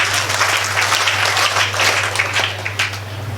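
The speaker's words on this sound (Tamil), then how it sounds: "கைத்தட்டலை பலத்த கரகோஷத்தில் நீங்கள் செய்யணும்னு கேட்டுக்கிறேன்" A large audience at a school summer-class closing ceremony in Salem claps together in sustained, dense applause, loud and even throughout with a steady low hum underneath.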